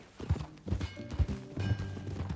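Horse hooves clip-clop at a steady trot in Red Dead Redemption 2, a regular series of close, clear hoof strikes in the open Western setting, with no one speaking.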